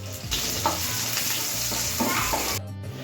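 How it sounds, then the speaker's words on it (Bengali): Black cumin, green chilli and chopped garlic frying in hot oil for a fish curry, a steady close sizzle with a few stirring scrapes, cutting off abruptly near the end. "এবার তেলের মধ্যে দিয়ে দেবো হচ্ছে কালো জিরে, কাঁচা লঙ্কা আর রসুন কুচি।"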